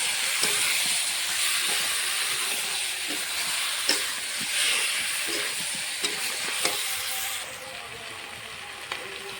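Potatoes sauté with ground coriander and cumin in a hot pan, sizzling and hissing steadily and loudly throughout, with scattered scraping stirs and small pops and no voices.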